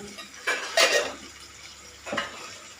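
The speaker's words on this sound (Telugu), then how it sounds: "ఆ ముక్కల్ని దాంట్లో పెట్టి వేయించుకుంటున్నాం" Chopped karonda pieces with cumin frying in a pan, a few short scraping and sizzling bursts, close and alone.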